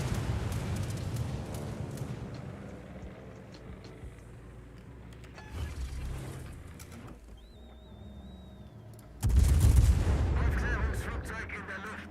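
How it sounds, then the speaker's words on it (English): Skip bombs bounce and explode around a warship in the naval battle game World of Warships, deep booming blasts and rumbling at the start, a quieter stretch with faint pops, then a sudden loud explosion near the end. "here comes the skip bombs. They're gonna bounce"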